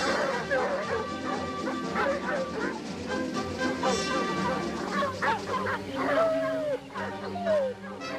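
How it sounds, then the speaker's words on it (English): Several dogs bark and yip excitedly outdoors in a rural farm setting, loud overlapping barks with some whimpering, close and continuous, with a short quieter dip near the end. "They probably heard the dogs"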